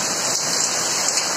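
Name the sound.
heavy rain during hailstorm in Kolkata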